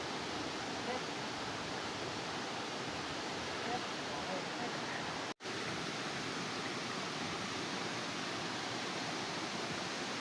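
A waterfall at the 9 falls pours in a steady, unbroken broadband rush, even and continuous throughout, with one brief dropout partway through.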